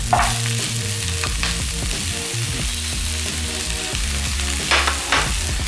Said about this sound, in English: We're going to go ahead and add green onion, carrot,